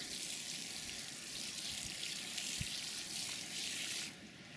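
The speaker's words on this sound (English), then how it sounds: "So I'm going to give it a good soaking of water." Water sprayed onto a freshly patched lawn area, giving a steady hissing spray of moderate loudness that drops off abruptly near the end, with no voices.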